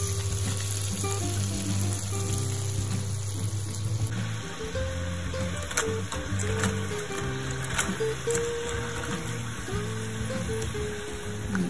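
Curly fries frying in a pot of hot oil, a dense continuous sizzle and bubbling heard up close, steady and loud throughout with a low hum beneath.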